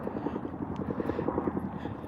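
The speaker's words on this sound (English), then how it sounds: "you hear the plane, right?" An aircraft passes overhead near an airport, a faint, pulsing engine drone heard from a distance with a steady, throbbing rhythm.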